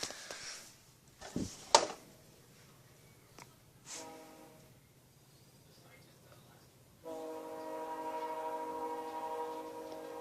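A VIA Rail J-train passes through St. Mary's, with sharp clanks and knocks followed by a steady rolling rumble of railcars that grows and continues. Brief voices are heard early on.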